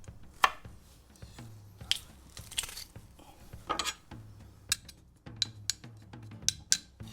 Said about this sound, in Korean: 마늘 5개는요 꼭지만 띄워주고 다져줄게요.